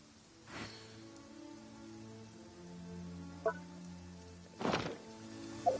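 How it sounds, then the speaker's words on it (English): Rain falls steadily in the Genshin Impact video game, a soft continuous patter with a few louder thuds breaking through, heard without any voices. "Quite a downpour. Nothing will get done until it clears."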